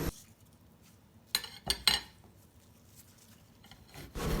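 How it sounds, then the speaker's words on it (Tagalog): Fresh ginger root and garlic rasped against a grater while making homemade Korean kimchi, a few short scraping strokes close by in a quiet kitchen. "We need to grate the fresh ginger root and a garlic"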